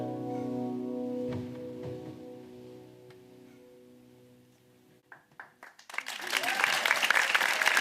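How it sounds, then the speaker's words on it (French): An audience applauds a featured artist, bursting into loud sustained clapping near the end after a quieter stretch of tonal sound and a few scattered claps. "Malo Lafleur, on peut l'applaudir très fort, bravo."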